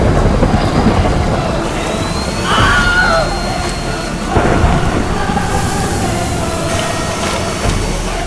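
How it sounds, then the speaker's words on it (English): Artificial hail and a leaf blower's wind batter a LEGO natural-disaster set, making a loud continuous roaring rush with rattling impacts and surging gusts, with no talking. "we cranked it up by bringing in the hail"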